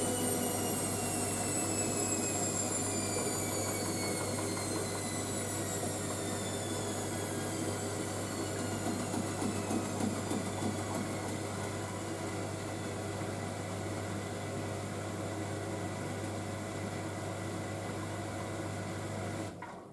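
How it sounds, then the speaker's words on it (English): Indesit IWC6165 washing machine on its final spin, a steady loud high whine and hum with rising tonal overtones, continuous throughout before stopping abruptly at the end. "because remember this machine, it does power on 2 final spin, that's what it does anyway"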